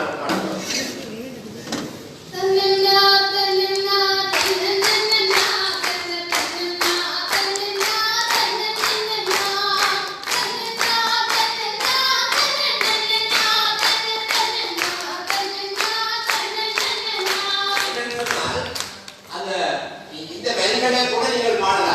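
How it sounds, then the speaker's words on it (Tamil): An audience claps along in rhythm during a stage performance, steady repeated hand claps accompanying singing voices over about twenty seconds, with a brief pause near the end. "நீங்களும் கைதட்டி பார்க்கிறீங்களா?"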